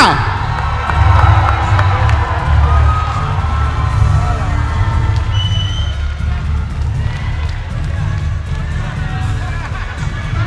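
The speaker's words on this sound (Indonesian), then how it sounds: "Ya, tepuk tangan yang meriah untuk Mario Lawalata" Boxing event crowd in Indonesia cheers and applauds in a steady, loud wash of clapping and shouts, while a voice talks over it.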